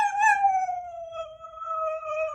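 A dog gives a long, clear howl that slides slowly downward, close and fairly loud, with faint low rustling underneath.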